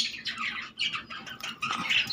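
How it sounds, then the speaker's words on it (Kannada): Pet budgies and lovebirds in a new loft chatter and squawk in quick, bright bursts, with several birds calling close by and no talk over them. "ಸೊ ಇದರಲ್ಲಿ ಆಲ್ರೆಡಿ ಬರ್ಡ್ಸ್ ಇದ್ದಾವೆ"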